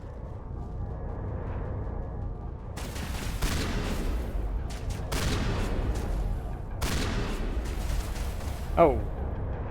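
Distant bursts of video-game gunfire and explosions crackle in Mass Effect 1 Legendary Edition, coming in irregular volleys beneath a steady background and a voice talking intermittently.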